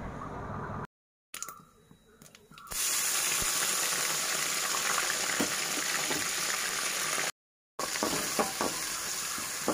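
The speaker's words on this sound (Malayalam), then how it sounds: "ഈ ഇഞ്ചി വെളുത്തുള്ളി പേസ്റ്റ് നന്നായിട്ടൊന്ന് മൂത്ത് വരട്ടെ, ഒരു ബ്രൗണ് കളറാവുന്നത് വരെ ഒന്ന് ഇതാക്കി കൊടുക്കുക." Ginger garlic paste fries in coconut oil for a pickle, giving a steady loud sizzle with stirring clinks that runs through most of the clip after a quieter start, with two brief silent cuts.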